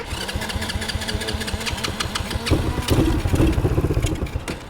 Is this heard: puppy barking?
no